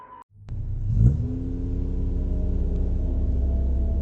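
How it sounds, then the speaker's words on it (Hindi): A car on a deserted road, beginning with a brief tone and a sharp click, then the engine revving up and settling into a steady, loud, close drone. "गाड़ी ड्राइव करते हुए जा रहे थे"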